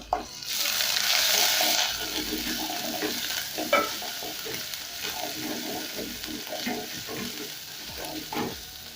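Garlic paste sizzles and crackles in hot oil with golden brown onions, a steady frying hiss with scraping stirs throughout and a louder burst of sizzle at the start.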